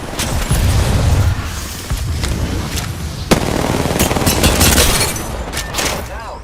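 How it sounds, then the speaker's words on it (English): Rapid gunfire from the Apex Legends video game, with dense automatic bursts and a sharp single shot midway, loud and sustained over a steady rumbling game backdrop. "Being shot at."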